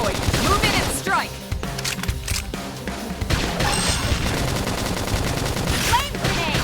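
Rapid gunfire bursts from Xenoblade Chronicles X ring out in a loud, busy battle mix with clashing impacts and game sound effects, continuing for several seconds with short dips between volleys.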